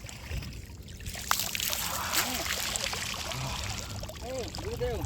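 Water splashes and trickles around a person bathing in the Narmada river, a continuous close splashing wash with people talking throughout.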